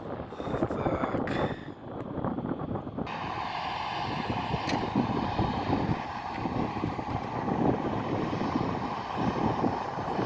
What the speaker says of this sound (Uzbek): samolyot uchayotir.